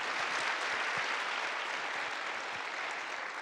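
Continuous, even applause fills the hall after a scientist's closing remarks at a Korean youth lecture concert, a dense crowd clapping without any talk over it.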